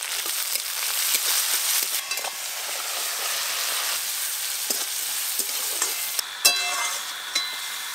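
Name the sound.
frying chopped onion with tomato and salt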